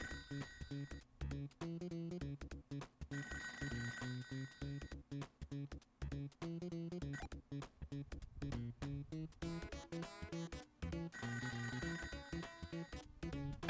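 A telephone in a video game rings over and over in a steady pattern of bursts separated by short gaps, clear and fairly close, with no talking.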